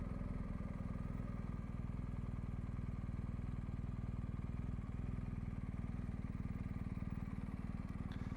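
2021 BMW R1250GS Adventure motorcycle ridden at slow speed, a steady low engine drone with constant thrumming pulses, fairly quiet and unbroken throughout, with wind and road noise and no talk.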